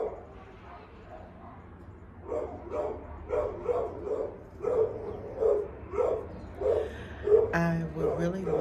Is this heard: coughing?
no